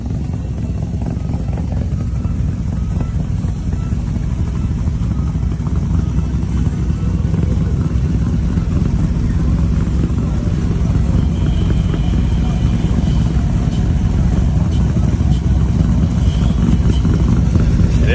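A supercharged Box Chevy idles with a choppy cam outside a bar, a deep, loud, lumpy engine rumble lasting throughout with people talking faintly beneath it.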